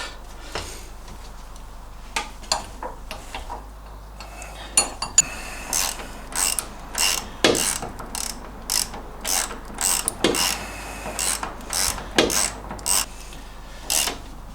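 Suspension bolts on an MGB being tightened by hand with a ratchet, giving a run of short metallic clicking bursts, close and fairly quiet, with brief pauses between strokes.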